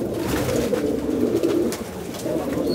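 Racing pigeons coo in soft, repeated throaty phrases close by, a continuous gentle murmur of several birds with a few brief sharper bursts over it.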